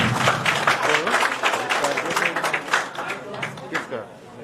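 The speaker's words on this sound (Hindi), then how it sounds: "जी हाँ, एक जोरदार तालियों से विजिता मैम का स्वागत होना चाहिए।" An audience at a Karni Sena workers' conference in Jharkhand claps to welcome someone speaker, a lively patter with sharp claps that ebbs toward the end under a talking voice.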